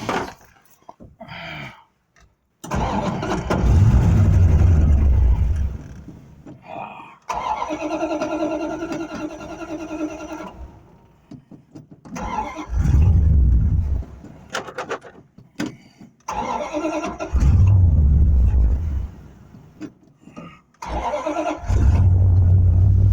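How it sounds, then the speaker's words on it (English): A 1972 Buick Skylark with a 318 four-barrel engine cranks in several bursts, then catches and runs at a loud, rough idle close by, with brief pauses and someone talking between attempts. "we're going to see if we can start the old car"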